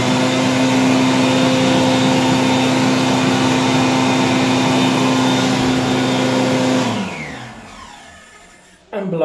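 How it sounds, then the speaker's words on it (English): An old hand dryer in a UK washroom roars steadily with its nozzle flipped to point upward, a loud, constant rushing blast for about seven seconds before it winds down and cuts off. "But it is a pretty old dryer, so I'm just amazed that this is still here."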